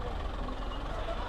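Heavy trucks and buses idle and rumble in a roadside traffic jam near a riverbank, a faint low engine drone with muffled background noise throughout.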